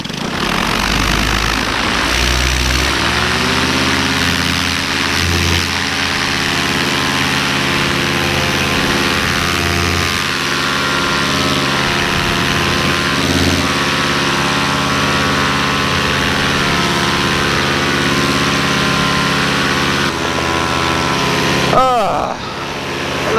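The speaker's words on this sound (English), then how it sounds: "Paramotor, you are go for throttle up." A paramotor engine spins up from idle and settles into a loud, steady propeller drone that holds close for a long stretch, with a brief rise in pitch near the end and speech over it.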